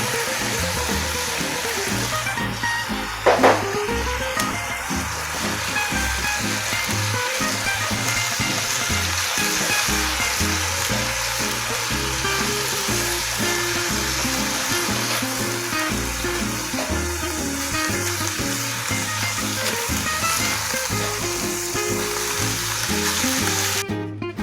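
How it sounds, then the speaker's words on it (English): Beef and onions sizzle steadily in a pan for a Philly cheesesteak mac and cheese, a dense continuous frying hiss with occasional stirring clatter, loud and close throughout with no talking. "the beef is coming up really nice. The onions is nice and sauteed on it"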